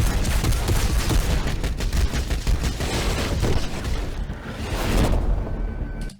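Bolt guns fire in dense, continuous volleys in a Warhammer Astartes animation, a loud wall of overlapping gunfire and booms that rumbles on for several seconds before cutting off abruptly.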